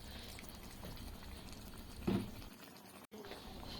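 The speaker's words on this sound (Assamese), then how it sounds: "এতিয়া এইখিনি ভালদৰে উতলি আছে।" Potatoes boil in hot water in a pot. The bubbling is a steady, soft, close hiss and patter, with a brief louder bump partway through.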